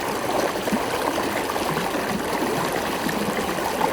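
Shallow stream water flowing steadily along a shaded hiking trail, a continuous close babbling and trickling wash with no voices.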